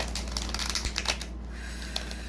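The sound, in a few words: shuffling tarot cards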